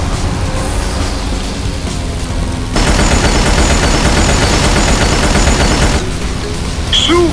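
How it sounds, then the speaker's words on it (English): Rapid sustained bullet fire from a cannon power-up in the racing game SkyDrift, a loud continuous rattling burst that starts abruptly, holds for about three seconds and cuts off, with game engine noise around it. "The cannon power-up keeps firing bullets, as long as you have ammo, and keep the Use Power-Up button pushed."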